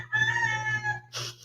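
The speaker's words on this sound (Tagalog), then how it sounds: "Ang ingay ng manok." A neighbour's chicken gives a drawn-out, nasal call and then a short, harsh squawk. It sounds faint and somewhat distant over a low, steady hum.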